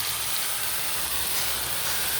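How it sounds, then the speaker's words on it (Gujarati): Kadhi tempering (vaghar) sizzles steadily in hot oil, a continuous close hiss with a faint low hum beneath and no talking. "જો મિત્રો આ કઢીનો વઘાર થાય તો"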